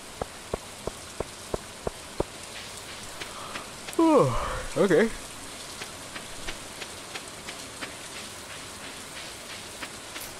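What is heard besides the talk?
rain falling in the video game Stardew Valley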